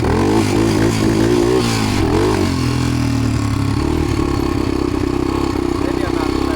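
An ATV engine revs hard and loud during a wheelie attempt, pitch rising and falling through quick throttle blips with some mechanical clatter, close to the listener.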